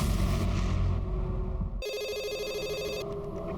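An electronic telephone ring trills steadily for over a second, entering after a loud low rumble and cutting off abruptly, in a Crime Patrol TV episode.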